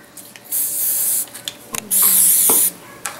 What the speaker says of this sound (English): you just spray with sheen spray